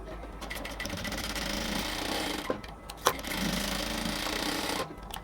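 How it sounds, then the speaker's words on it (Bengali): A sewing machine stitches folded cotton salwar fabric with a steady, close mechanical whir. It stops briefly partway through with a clack and then runs on before halting at the end. "এই কাপড়টাকে আমরা একটু ফোল্ডিং করে সেলাই করে দেব"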